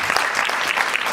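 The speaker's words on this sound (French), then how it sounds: "Oui, on peut applaudir." An audience at a Cannes cinema event in 2019 breaks into dense, steady applause, many hands clapping at once at close range with no voices over it.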